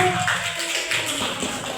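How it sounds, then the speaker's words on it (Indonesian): A classroom of high school students at SMA Negeri 1 Kunto Daru applauds a presenting group, a dense, steady patter of many hands filling the room for a couple of seconds. "Oke, silakan beri tepuk tangan untuk kelompok 1."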